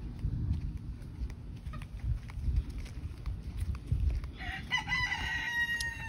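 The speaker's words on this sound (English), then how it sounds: "we don't want him by the chickens" Backyard chickens cluck steadily over a constant low rumbling background, and a rooster crows in the latter part, moderately distant and unaccompanied by talk.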